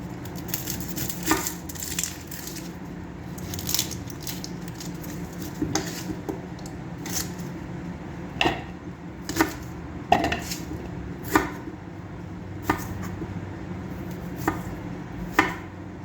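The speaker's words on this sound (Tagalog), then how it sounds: "cut tayo ng sibuyas, luya at saka garlic" Onion, ginger and garlic chopped on a cutting board with a knife, sharp irregular knife taps scattered across the stretch over a low kitchen background hum, no talk.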